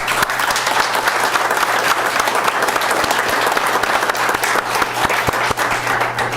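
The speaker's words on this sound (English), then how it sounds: "So if you don't mind giving a round of applause" Loud, sustained round of applause from an audience at a township board meeting, dense steady clapping filling the room without a break.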